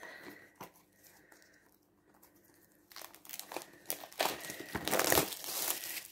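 Plastic wrap is torn and crinkled off a new deck of healing reading cards, soft rustles building into loud, close crackling and tearing.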